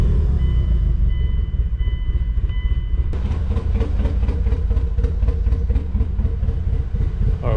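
A Mitsubishi EVO's engine runs steadily and fairly loud, with a dense rumbling drone and an irregular rapid pulsing that picks up partway through, no voices heard.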